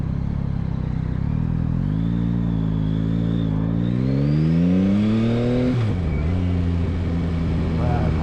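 Yamaha MT-09 three-cylinder engine revving under load, its induction note climbing smoothly in pitch for several seconds before dropping sharply and settling back, loud and close throughout.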